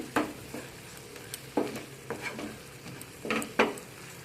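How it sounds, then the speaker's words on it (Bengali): Tomatoes and spice paste with cashews frying together in a pan, with repeated scraping stirs and short spatula knocks over a soft sizzle, close and fairly loud. "সব কিছুকে একসাথে ভালো করে ভেজে নেব"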